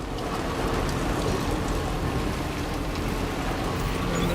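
Steady, dense rain from the video game Death Stranding 2 falls continuously, a loud even hiss of drops with a low rumbling undertone throughout and no voices.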